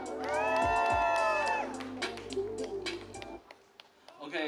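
A crowd at a live hip-hop concert in a small venue screams and cheers loudly, with high whoops and shouts over sustained music that cuts off, leaving scattered voices and a speaker talking.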